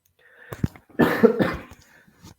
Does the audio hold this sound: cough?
yes